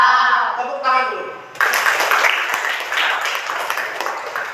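Schoolchildren in a classroom clap together after a teacher speaks, a burst of loud, dense applause from a nearby group following a short stretch of talk.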